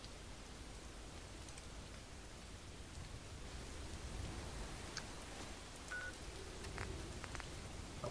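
Rain falls in the Wasteland Reborn game, a soft steady hiss of rainfall with a few faint tones and clicks scattered through it. No one speaks.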